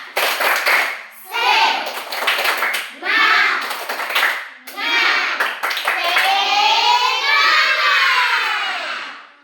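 Children clap in a classroom after a group presentation, the claps coming in short bursts mixed with loud shouting and cheering kids' voices, close and lively.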